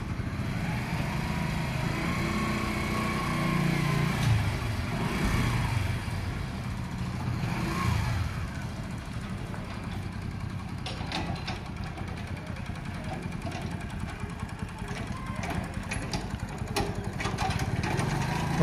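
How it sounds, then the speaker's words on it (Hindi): A motorcycle tows a poultry farm trailer during a road test, its engine droning steadily at a moderate distance, with rising and falling revs and some rattling from the load. "तो ये ट्रॉली का बाइक से टेस्टिंग लेते हैं।"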